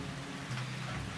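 Steady rain hisses on surfaces as a radio drama sound effect, a brief, even wash of dense patter with a low rumble beneath, heard alone without voices.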